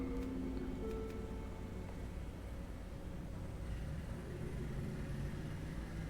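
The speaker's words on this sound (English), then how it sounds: "it's just some kids on motorbikes" Kids riding motorbikes past outside, a faint low engine rumble heard from a distance that holds steady without any clear rise or fall.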